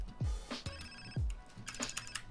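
A phone rings in the video game GTA San Andreas, a short warbling ringtone in quick bursts over low thumps and background game noise, fairly faint and brief.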